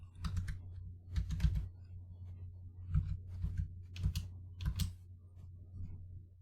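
Bursts of quick clicking keystrokes on a computer keyboard while entering a file name, clustered in short runs with brief pauses between, close and fairly quiet with no talking.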